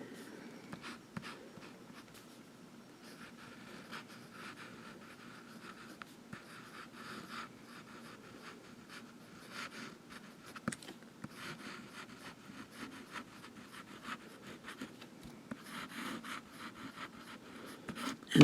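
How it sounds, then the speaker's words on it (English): A calligraphy pen scratches across paper in quiet, close strokes, soft intermittent scraping that comes in short bursts with pauses between them, and no voices. "And we'll do some writing."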